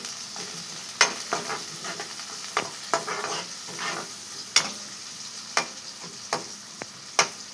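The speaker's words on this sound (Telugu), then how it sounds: "కరివేపాకు వేసేసుకొని ఎర్రగా వేగనిచ్చి" Curry leaves and green chillies fry in hot oil, a soft steady sizzle broken by sharp stirring clicks and scrapes every second or so, close and fairly quiet, with no talk.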